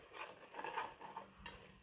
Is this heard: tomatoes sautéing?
yes